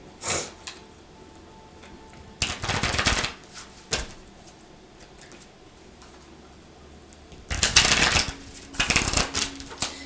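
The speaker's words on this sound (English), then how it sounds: "let's shuffle." Bursts of tarot cards being shuffled, crisp riffling rattles in two main spells with quieter handling between, close up and without talk.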